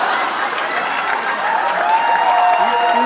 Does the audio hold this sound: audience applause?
yes